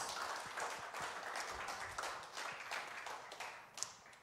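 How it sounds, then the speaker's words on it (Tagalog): A congregation at a Sunday worship service applauds, giving a steady, fairly faint wash of clapping that runs the whole time with a few sharper claps on top. "Bigyan natin ng isang malakas na palakpak ang ating Panginoong Diyos."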